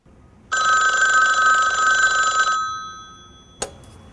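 An old-style telephone bell rings in one sustained two-second burst, loud and close, then stops, followed by a brief clunk as the handset is picked up.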